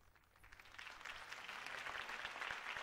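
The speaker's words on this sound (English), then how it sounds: "could have heard that applause" A crowd applauds after a campaign speech for Harvey Dent in Batman - The Telltale Series, clapping that swells from faint to a steady, dense wash and stays distant-sounding.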